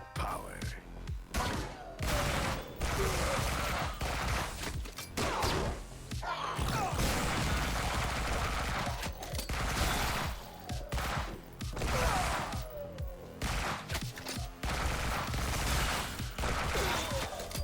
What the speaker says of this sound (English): Let's get a submachine gun